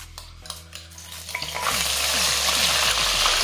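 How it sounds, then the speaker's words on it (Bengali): Ginger, garlic and onion paste hits hot oil with tempered spices for chole masala: a few utensil taps, then a loud sputtering sizzle swells and holds while it is stirred, with no talking. "এবারে এগুলো খুব ভালোভাবে তেলে নেড়ে চেড়ে নিতে হবে"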